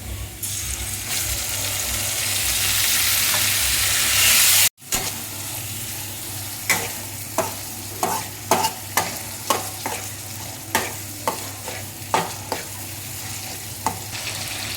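Tomato and turmeric fry in a pan for a spicy brinjal dish: a loud continuous sizzle at first, then a sharp break followed by regular scraping stir strokes over a softer fry.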